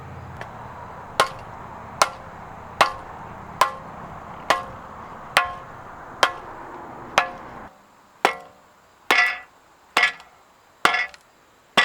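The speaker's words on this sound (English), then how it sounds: "Now I can use a heavy rubber mallet and just smack this out of the hub." A heavy rubber mallet repeatedly strikes a MINI Cooper front strut to knock it out of the hub, making about a dozen sharp, evenly spaced knocks that grow louder and more ringing toward the end, close up with no speech.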